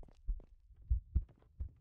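Heartbeat sound effect in a horror video game: four deep, muffled thumps in an uneven lub-dub rhythm, close and alone with no talk.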